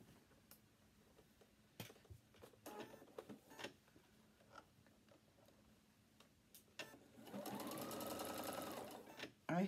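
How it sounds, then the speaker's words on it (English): A home sewing machine stitches a circle of fabric for a baby bubble garment, its steady needle whir rising loud and continuous near the end after earlier short bursts and faint background sounds. "Because you've got a circle now you're sewing."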